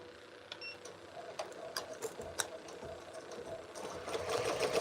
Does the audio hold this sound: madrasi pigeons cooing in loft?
no